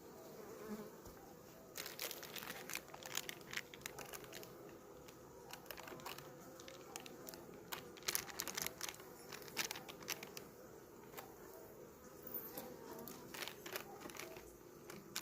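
Honey bees buzz at a beehive while it is being worked, a close steady drone with scattered clicks and sharp crinkly knocks from handling the frames.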